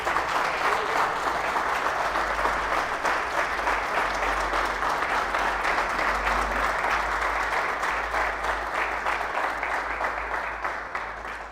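Audience at a talk on men's mental health breaks into loud, sustained applause, dense many-handed clapping that holds steady and tapers slightly at the end.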